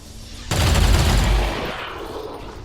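Soldiers firing guns in the video game XCOM 2: a sudden loud burst of rapid gunfire lasting about a second, then fading into a rumbling tail.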